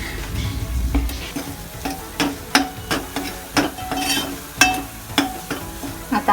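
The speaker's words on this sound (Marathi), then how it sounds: "आता व्यवस्थित हे मिक्स करून घेऊया।" Turmeric and coriander powder are stirred in a hot pan for a Vidarbha-style aloo bonda curry, producing a soft sizzle under frequent loud, irregular scrapes and knocks of a spoon against the metal.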